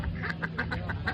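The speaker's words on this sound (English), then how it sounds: "Look at those ducks." Ducks quack beside a koi pond, with a quick run of about seven nasal calls in steady succession, close by and clear over a low background hum.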